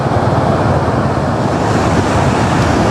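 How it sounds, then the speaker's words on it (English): Ocean waves at San Juan del Sur beach in Nicaragua, a steady, loud, broadband wash of surf mixed with gusting wind noise across the microphone. "Look at these waves out here"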